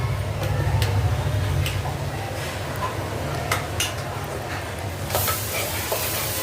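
Onion and coconut paste fries in oil in a pan for a spicy drumstick curry gravy, with a steady low sizzle and occasional soft stirring scrapes close by.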